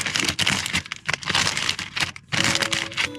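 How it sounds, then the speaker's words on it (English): A thin plastic bag crinkles and crackles as it is wrapped around a fuel fitting aboard a sailboat, in close, busy bursts of rustling with brief pauses between handfuls. "put a little plastic bag around it."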